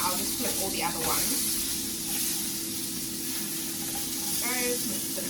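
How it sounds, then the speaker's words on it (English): Burger patties topped with cheese sizzle in a pan with a steady hiss. Someone speaks faintly over the frying. "we'll let that sizzle a little bit more"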